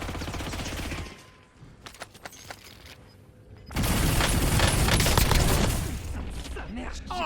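Gunfire in a Warzone battle royale match: bursts of automatic shots and loud firing fill the start, quieter scattered shots follow, then a dense loud stretch of sustained fire, with players talking over it.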